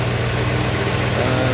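A 1966 Ford Mustang GT with a factory engine idles nearby in a steady, loud, low rumble with no voices over it.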